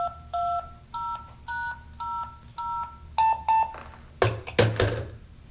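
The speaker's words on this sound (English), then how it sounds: "now I'm going to program it to dial my phone here" A run of keypad dialing tones from a Viking Electronics K-1900-5 being programmed, about eight short two-note beeps in quick succession, followed by a couple of sharp clunks and a rattle.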